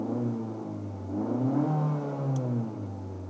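A 2025 Mitsubishi Destinator engine revs inside a workshop, a steady idle hum swelling into a rising rev and easing back down, close and continuous with no voices.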